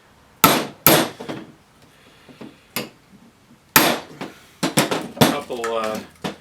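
Sharp hammer blows strike a socket to drive a worn shaft seal out of a plastic Reeflo pump part: a few loud, separate metallic hits with short pauses between them, and someone talking between the strikes.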